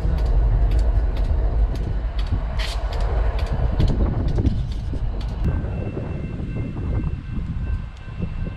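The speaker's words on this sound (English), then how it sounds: "big Amtrak train." A heavy Amtrak passenger train rumbles past close by, with clattering wheels and sharp metallic clicks that gradually fade as it moves away.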